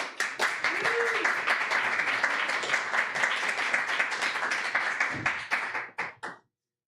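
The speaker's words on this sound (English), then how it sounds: "Let's give a round of applause for Sara Ellen Fowler." An audience at a poetry reading breaks into sustained applause, dense clapping that holds steady for several seconds before thinning out to a few last claps and stopping, with a brief voice in the middle.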